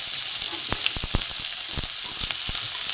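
Chopped onions hitting hot oil in a pan already holding sugar, cloves and cardamom, a dense, loud, steady sizzle at close range with a few soft knocks from the utensil, no voices.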